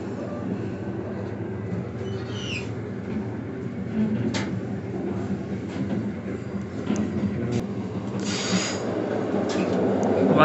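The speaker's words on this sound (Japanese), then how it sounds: "先にこっちのね、小出駅の列車の方が先に出発していきます" A crowded Tadami Line train departing Koide Station rumbles steadily and grows louder as it gets underway, with rail clatter and a few faint high squeals and clicks.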